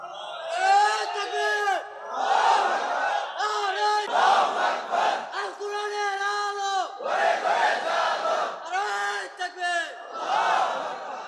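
A large crowd at an outdoor Bengali Islamic sermon gathering shouts takbir in loud, rhythmic call-and-response bursts, with a lead voice rising between repeated massed chants.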